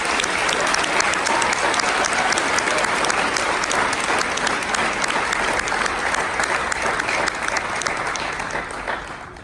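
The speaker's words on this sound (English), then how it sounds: "please give a big round of applause to the coolest sponsors any class could have, Mr. Ambrose and Miss Sophia." A graduation ceremony audience gives steady, full applause to class sponsors, loud dense clapping that carries on without a break for about nine seconds and fades slightly at the end.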